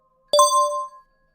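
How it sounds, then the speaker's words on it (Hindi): A phone notification chime, a single bright two-note ding with a clean ringing tail that fades within about a second, loud and alone against silence. "तभी उसके फोन पर एक नोटिफिकेशन आया"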